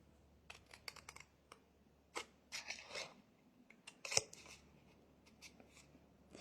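Scissors cut along drawn lines on a paper card, with short close snips and crisp rustles of paper in irregular bursts, separated by near-silent pauses and no voices.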